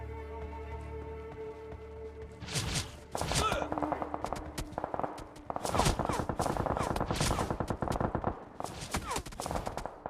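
Gunfire in BGMI rattles in rapid, dense bursts with short gaps between volleys, loud and close, after a brief steady tone at the start.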